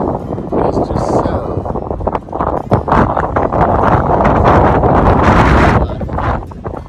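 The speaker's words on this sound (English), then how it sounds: "pretty windy here today." Strong wind blows across a hilly, wooded landscape in Vermont and New Hampshire, a loud continuous buffeting rush against the microphone that swells and gusts steadily throughout without pause.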